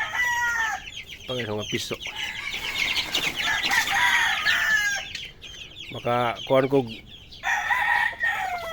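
Farmyard chickens with roosters crowing loudly and repeatedly, several long cock-a-doodle-doo calls close by, with hens clucking and a brief wing flap, while someone talks briefly underneath.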